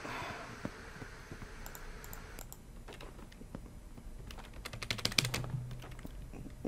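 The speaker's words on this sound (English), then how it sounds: "You hear me just smashing my freaking keyboard." Rapid, frantic keyboard clatter while playing a FNAF fan game, with keys mashed in irregular bursts up close over a low background hum, growing busier toward the end.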